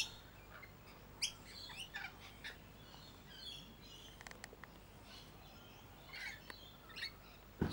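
Noisy miner birds calling within a mixed flock outdoors, giving scattered sharp chirps and short calls at a distance over quiet background hiss, with no talking.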